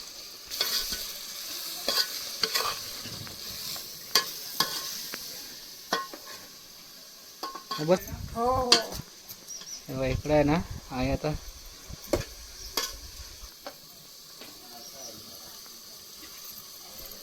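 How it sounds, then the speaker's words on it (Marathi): Mutton in bedgi masala is stirred and fried in a kadhai over a wood-fired chulha, with steady sizzling and scraping strokes of a spoon against the pan while someone talks over it. "आता आहे ना हे मस्त की फ्राय करून घ्यायचं आहे, थोडंसं मिक्स करायचं आहे"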